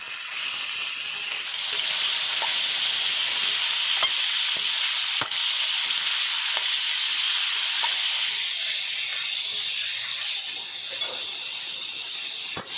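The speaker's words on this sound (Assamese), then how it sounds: "কেপচিকাম, ফ্ৰেঞ্চবিন আৰু লগতে বন্ধাকবি দি ভালদৰে অলপ টাইম ফ্ৰাই কৰি ল'ম।" Capsicum, french beans and cabbage stir-fried for chow mein, a steady loud sizzle and hiss throughout with occasional scrape and clink of the spatula against the pan.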